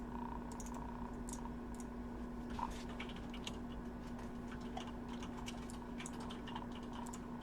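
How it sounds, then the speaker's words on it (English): Steady keyboard typing clatters quietly in a room with a constant electrical hum, with no one speaking. "Anastasia's typing in the background there."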